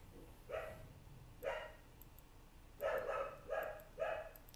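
Dogs bark in separate bursts, one, then another, then three quick barks close together, moderately loud over a steady background hum.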